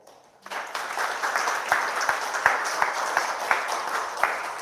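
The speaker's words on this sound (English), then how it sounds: "deserves another round of applause." An audience at a 16th-anniversary Iraq War 2003 commemorative event bursts into applause after a short quiet lead-in, a steady wash of clapping with a few sharper claps standing out.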